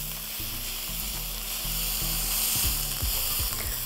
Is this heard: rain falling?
no